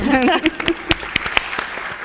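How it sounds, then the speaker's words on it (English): Scattered audience clapping at a corporate HR forum panel, a few sharp individual claps breaking through after a brief voice at the start, thin and uneven rather than a full ovation. "let's give a round of applause for Max"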